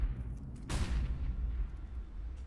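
Counter-Strike HE grenades going off toward a main entrance during a PGL Major match: one sharp booming blast with a rumbling tail over a low background of game noise, moderately loud.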